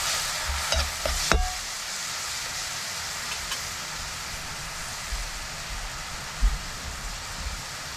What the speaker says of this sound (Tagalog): Ginisa po, ginisa.